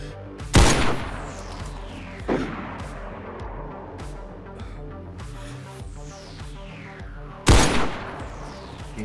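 Gunfire in DayZ, with three heavy booming shots spaced several seconds apart, each echoing and decaying across open terrain, over a faint ambient background.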